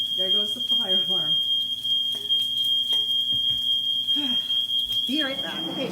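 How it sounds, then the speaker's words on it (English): A smoke alarm, set off by cooking in a cast iron pan, sounds a steady, piercing high beep throughout while people talk over it. "Every time I use my cast iron pan, there goes the fire alarm."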